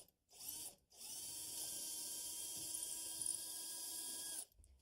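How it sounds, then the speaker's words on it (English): A power drill with a short bit bores through a wooden stair banister newel post, a steady whine that spins up after two brief bursts and runs evenly for several seconds, close and alone. "By using a short bit, I have less chance of it wandering as it goes through the post."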